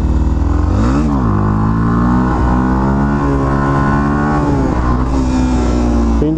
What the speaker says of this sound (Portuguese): Essa moto aqui você não sofre pra puxar, rapaziada